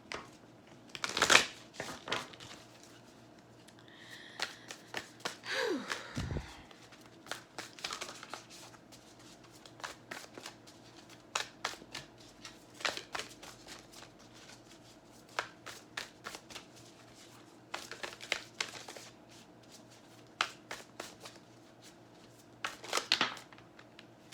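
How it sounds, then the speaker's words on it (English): An oracle card deck is shuffled and cards are pulled, making close, quiet riffling and flicking bursts scattered irregularly through a long stretch, with a few sharper slaps of cards and no talk. "We're going to go ahead and pull some cards from the Work Your Light Oracle deck."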